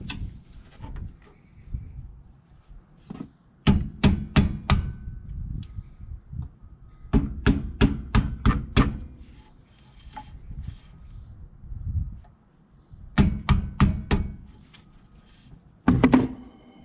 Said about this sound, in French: Tu prends ton meilleur marteau et ton meilleur tournevis plat.